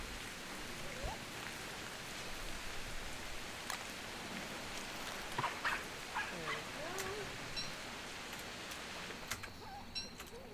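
Soft, steady patter of rain in the video game Don't Starve: Hamlet, a constant hiss with scattered small clicks and brief game sound effects on top.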